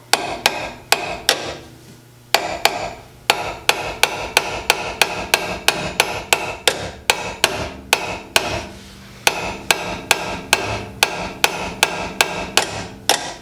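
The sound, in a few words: hammer striking metal brake parts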